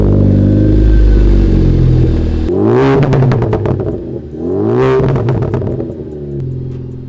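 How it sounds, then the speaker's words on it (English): A Ford Focus ST idles loudly up close, then gets two sharp revs that climb and fall back before settling into idle again. "we're gonna start it up and see how she sounds"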